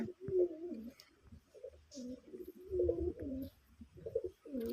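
Big pigeons of a desi red-coloured breed cooing in repeated low, throaty phrases close by, with short pauses between calls and no talk.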